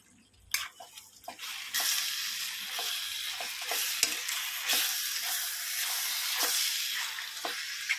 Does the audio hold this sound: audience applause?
no